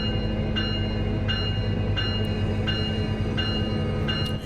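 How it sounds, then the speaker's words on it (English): A Metrolink F125 locomotive in the Train Sim World 5 video game rumbles steadily and loudly, with a low engine drone and evenly spaced rhythmic clicks of wheels passing over rail joints. "There's another train heading out."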